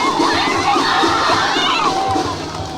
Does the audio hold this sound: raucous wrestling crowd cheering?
yes